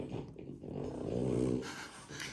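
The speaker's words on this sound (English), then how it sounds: "can hear that it's the little French bulldog." A small French bulldog snorts and breathes heavily close by, a rough, wet, continuous snuffling that swells in the middle and fades.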